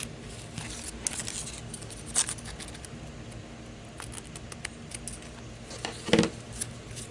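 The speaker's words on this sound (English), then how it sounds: "I'm just going to come in and cut the ribbon" Scissors cut through ribbon while fabric Christmas tags are being made, producing a few faint snips and rustles, with a sharper clip near the end, close by and quiet, with no voices.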